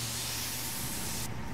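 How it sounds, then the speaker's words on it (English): A firefighter's hose sprays water against a wall in the video game EmergeNYC, a loud, close, continuous hissing jet that cuts off abruptly near the end. "we'll spray this wall really good here."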